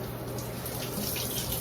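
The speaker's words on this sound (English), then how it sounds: "let me rinse off the old noggin here." Cold tap water runs steadily as a man rinses his head, a continuous close-up splashing hiss with no talking.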